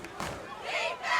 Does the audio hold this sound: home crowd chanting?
yes